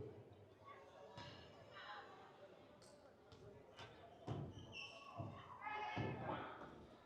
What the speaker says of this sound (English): Free throw bangs back iron.